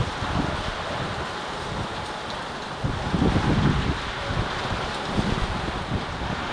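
Gusty wind and heavy rain from Cyclone Remal in Kolkata make a continuous broadband roar that swells in stronger gusts, with buffeting on the microphone.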